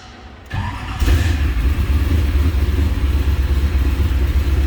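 A 1932 Ford Highboy Roadster with a fuel-injected engine cold-starts: a brief crank, then the engine catches and settles into a loud, steady, rumbling idle close by.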